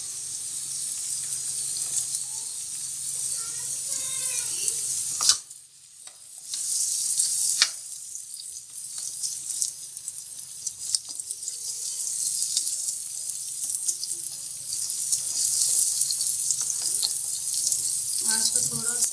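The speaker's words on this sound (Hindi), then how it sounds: "लहसुन और अदरक 1 मिनट के लिए फ्राई करके इसके बाद इसमें प्याज डालेंगे" Garlic and ginger fry in a pan, a loud, continuous sizzle close by with stirring scrapes, briefly interrupted before the hissing resumes.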